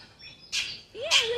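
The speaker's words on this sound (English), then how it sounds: "I heard somebody is calling me. Hello. Hello. Hi. Hi, baby. Baby bird." A baby bird in a forest park gives two short, faint squawking calls about half a second apart, nearby and alone.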